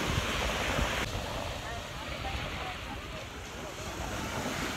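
Surf washing ashore at Miami Beach on Penang, a steady broadband wash of waves mixed with wind buffeting the microphone, continuous and fairly close throughout.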